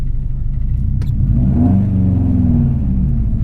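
A Subaru WRX engine revs up loudly, its low rumble climbing and holding steady at close range for a few seconds.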